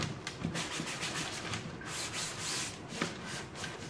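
A sanding block rubbed back and forth over a faux leather paper project, giving a continuous close scratchy rasp with a few stronger strokes and no talk.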